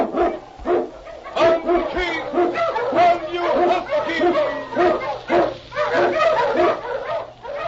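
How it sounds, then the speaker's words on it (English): An Eskimo sled dog barks repeatedly in an old radio drama set in the snowy Yukon, the dog sounds loud and close with steady yips and barks, with a voice or crowd-like layer mixed beneath. "King, the swiftest, strongest of Eskimo lead dogs, blazes the trail through storm and snow"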